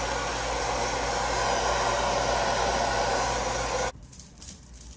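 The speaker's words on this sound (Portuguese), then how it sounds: "eu prefiro jogar um pouco do secador" A hair dryer blows steadily on mousse-coated Fulani braids made of synthetic fibre, a loud close-up roar that holds for about four seconds and then cuts off into quiet room sound.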